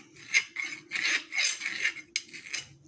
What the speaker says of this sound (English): run it on a flat file